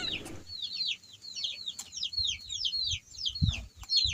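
Chickens clucking and chirping repeatedly close by in a forest, a busy run of short calls with faint background rustling and no talking.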